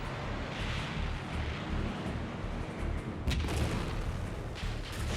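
Battle gunfire and artillery from a documentary about the fighting in Paris under General von Choltitz, heard as a dense, continuous rumble of distant booms and shots with a sharper burst near the end.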